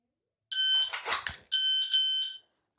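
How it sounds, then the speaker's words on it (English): Two sharp electronic beeps from a Kestrel KST-1000 shot timer, each about half a second, high and piercing, separated by a burst of noise like a shot or clatter. "I just got my sight picture as the second beep went off."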